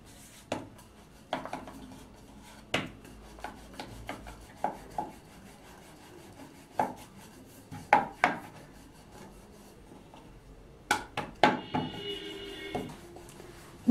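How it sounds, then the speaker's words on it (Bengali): A rolling pin working chicken paratha dough on a board, giving close, irregular knocks and soft rubbing thumps with quiet gaps between, some strikes louder than others. "এখন আমি পরোটাগুলো বেলে নেব।"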